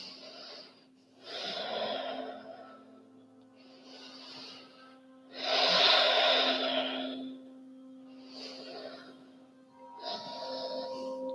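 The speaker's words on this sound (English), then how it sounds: "Keep on breathing." Slow deep breathing during an evening yoga flow, about six audible breaths alternating soft and stronger, close and calm, with a faint steady hum underneath.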